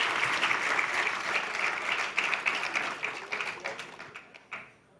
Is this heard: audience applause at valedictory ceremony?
yes